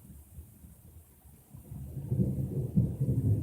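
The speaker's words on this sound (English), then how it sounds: "It's thundering." Distant thunder rumbles low and builds into a rolling, louder growl during a storm, with no voices.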